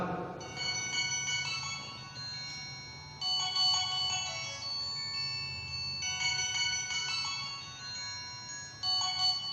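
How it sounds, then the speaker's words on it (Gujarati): A mobile phone ringtone plays from inside a glass in a classroom science lesson on sound, bursts of bright electronic melody repeating in a steady pattern over a low background hum, with no one talking over it. "તમે જે રિંગ સાંભળે છે એકદમ મોટા અવાજમાં રિંગ સાંભળે છે"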